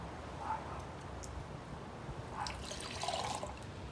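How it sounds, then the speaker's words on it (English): Hot water is poured into a beaker holding borax, a soft steady trickle and splash lasting a few seconds with brighter bursts near the end, faint and with no talking. "Gonna get some hot water, and we're going to put 1 cup in there"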